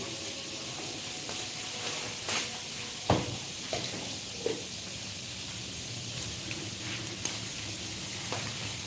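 Nasi goreng fries in a pan in a home kitchen, giving a continuous close sizzle and hiss with a few sharp scraping and stirring clacks scattered through it and no talk.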